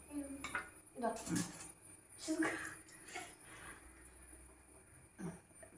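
A spoon stirs food in a pan, clinking and scraping against the metal in several uneven bursts. The sounds are close but soft, and low talking runs faintly underneath.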